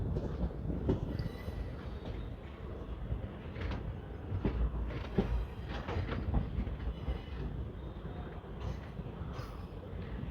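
A train rolls along the line near the Delhi–Mathura route with a steady rumble and repeated clattering knocks from the wheels and cars, sustained and fairly close throughout, no talking.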